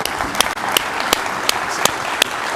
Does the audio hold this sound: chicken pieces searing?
no